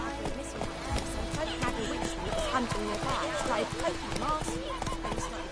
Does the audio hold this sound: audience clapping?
no